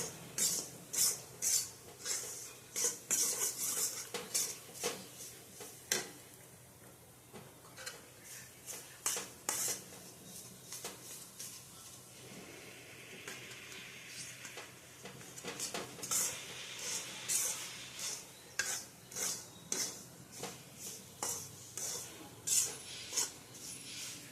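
A spoon scrapes and taps in a pan as jowar flour roasts in ghee and milk, quick repeated clinking strokes in bursts with short pauses, close but soft.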